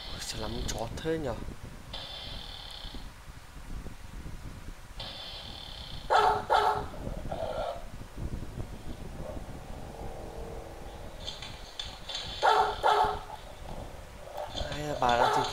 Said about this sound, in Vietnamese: sao lắm chó thế nhở.